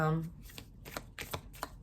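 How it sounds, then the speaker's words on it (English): Tarot cards being shuffled by hand in a steady run of soft riffling bursts, close and fairly quiet, with no talking over them. "I've been shuffling through 3 times or trying to and see what pops out for you guys"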